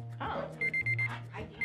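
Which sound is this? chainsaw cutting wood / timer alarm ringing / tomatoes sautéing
timer alarm ringing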